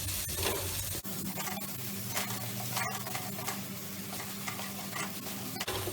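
Raw banana sabzi with spices stirred in a pan, a close, continuous sizzle of frying under scraping spoon strokes, with a couple of sharp clacks against the pan.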